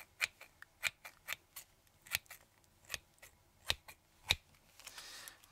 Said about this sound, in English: we have plenty of scissors.